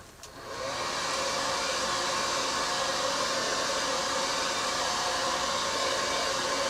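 A hair dryer, used at a printmaking workshop, switches on and blows with a steady, loud whooshing hum that continues unbroken.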